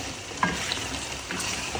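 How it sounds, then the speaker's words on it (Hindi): Aloo gosht masala of meat, onions and spices is stirred and fried in a pan, giving a steady close sizzle with a couple of brief scraping knocks. "अब हम इसकी बुनाई करेंगे।"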